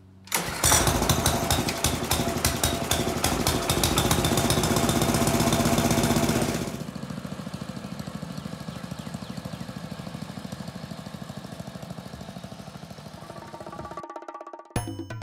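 A lawn mower scalps grass very low, its engine roaring loud and steady at first, then dropping to a lower, rougher running drone before cutting off near the end.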